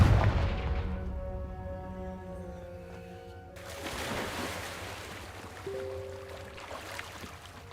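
Deep booming blast of the Confringo spell in Hogwarts Legacy, a heavy rumbling explosion at the start that decays, with tonal magical effects and further low rumbles afterward.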